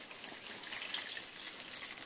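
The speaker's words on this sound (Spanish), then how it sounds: "Echo como medio litro de agua" About half a liter of water pours steadily into a pot holding salt, sugar and torn bay leaves for a pastrami brine, a soft continuous splashing heard close and alone.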